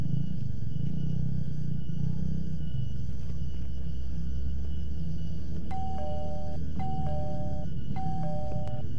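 A broken doorbell chimes in a repeated two-tone pattern, three rings in quick succession, over a loud rumbling background.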